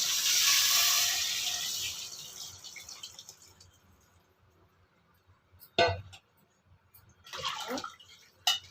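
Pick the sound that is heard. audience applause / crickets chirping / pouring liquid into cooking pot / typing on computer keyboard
pouring liquid into cooking pot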